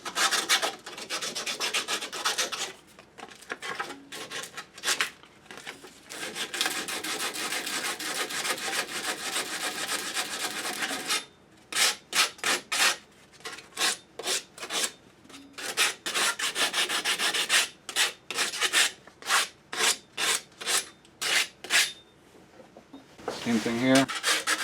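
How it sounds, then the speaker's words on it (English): Copper pipe being cleaned with 150 grit sandpaper, giving long, rough rubbing strokes close up, first in a continuous stretch, then in quick back-and-forth bursts, with brief pauses between. "take a little bit of sandpaper. I got 150 grit here. And just clean these up a little bit."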